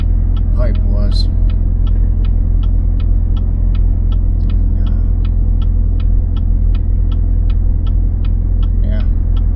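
A 2016 sixth-generation Chevrolet Camaro SS with a manual gearbox and aftermarket exhaust idles with a deep, steady, throbbing rumble, loud and close, and a faint regular ticking runs over it.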